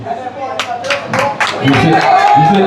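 Audience clapping in a hall after a musical tribute to a veteran musician, a dense patter of hands over a loud, steady crowd murmur with a voice talking across it.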